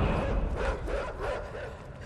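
A dog barks and yips repeatedly amid dense, rumbling game noise in the dark puzzle-platformer Inside, the calls coming in quick bursts at moderate distance.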